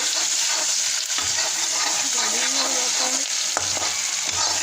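Fried rice with curry leaves and coriander frying in a pan over a low flame, giving a steady close sizzle throughout with a few soft stirring scrapes and no talk.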